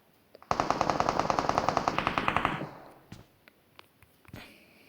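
Rapid automatic gunfire from an Uzi in a competitive online shooter match, a sustained loud burst of about two seconds followed by a few scattered single shots and faint clicks.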